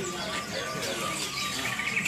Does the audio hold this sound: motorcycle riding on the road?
no